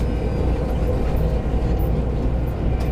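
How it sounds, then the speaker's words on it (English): A train rolls across railroad tracks at a crossing in Oakland, California, a steady loud rumble of rail cars heard from nearby, continuous and dense with low-frequency roar throughout. "they actually got a train going across the tracks here"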